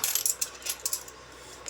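Coins from a savings stash drop and clink in quick, irregular bursts as they are counted, close and fairly loud with no talking.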